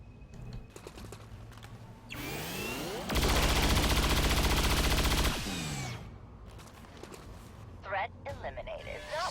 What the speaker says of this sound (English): So I will just kill that one and rapid fire the mech.